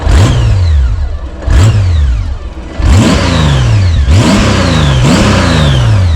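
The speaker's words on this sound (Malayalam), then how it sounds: "പിന്നെ വണ്ടി നല്ല മിസ്സിങ് ഉണ്ട്, നല്ല മിസ്സിങ് ഉണ്ട്, ചെറുതല്ല, അടിപൊളി മിസ്സിങ് ഉണ്ട്." A misfiring motorcycle engine, with water reportedly in the engine, revs hard in repeated bursts on a rough Nepal road, each rising roar sagging back down, loud and close with no talking.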